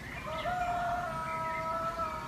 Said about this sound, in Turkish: Horoz da kutluyor bayramınızı.